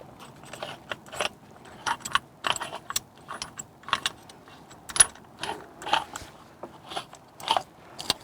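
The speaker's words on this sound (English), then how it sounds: "now I can go ahead and push the piston back in" Brake caliper piston on a BMW E90 325i being pushed back in during a front pad and disc change, giving repeated close metallic clicks, scrapes and knocks in an irregular rhythm, with no talk.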